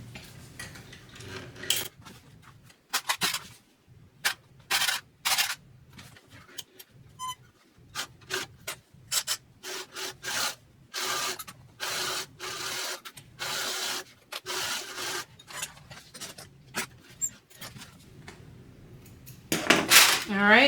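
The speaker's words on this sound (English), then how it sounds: "I'm going to get them sewn together at 1/4 of an inch seam allowance" A sewing machine stitching purse pocket pieces together at a quarter-inch seam, stop-start bursts of rapid mechanical clatter with short pauses and fabric handling between runs, close by; a voice speaks in places.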